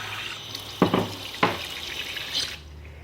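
Tap water runs into a pot while soup is being made, a soft steady splash with two louder bursts partway through before the flow cuts off near the end.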